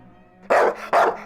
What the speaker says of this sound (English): Next moment, it wildly barked and started sprinting towards me.